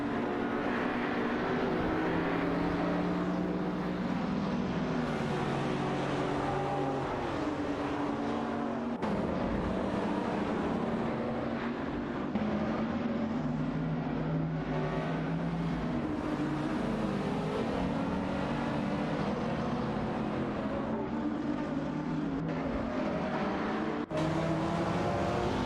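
Racing car engines in an AI racing video game drone steadily at high pitch for the whole stretch, loud and continuous with shifting tones as cars pass, and no talking.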